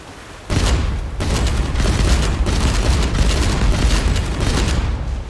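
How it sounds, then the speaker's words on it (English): A sea mine detonates in the naval game Age of Water, a loud broadband boom that erupts sharply and then rolls on as a sustained, rumbling blast with crackling debris for several seconds. "That was a mine, by the way"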